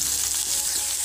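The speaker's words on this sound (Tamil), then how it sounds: "நல்லா வெங்காயம் நல்லா வதங்கணும்." Chopped big onions sauté and sizzle in a pan for a mushroom pepper fry, a steady close hiss of frying that fills the whole moment with no voices.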